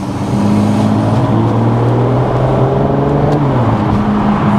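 Aston Martin DB11 with a twin-turbo V12 accelerating hard, a loud, steady engine roar with rising harmonic tones that climb, dip briefly at a shift, then climb again, close and continuous with no talking.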